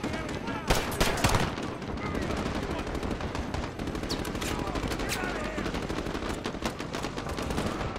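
Gunfire in Call of Duty: Modern Warfare, with rapid loud shots cracking in dense bursts over continuous battle noise, close and sustained throughout.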